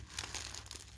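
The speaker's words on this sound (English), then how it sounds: "So bloody packing peanuts everywhere." Packing peanuts shift and crinkle inside an opened plant nursery parcel, giving a brief, light, close rustle at low volume with no talking.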